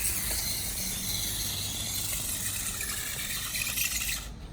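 A 3D printed PETG spur gear on an RC car motor grinds and rasps steadily as it strips, a close, continuous mechanical ratcheting noise that cuts off abruptly at the end.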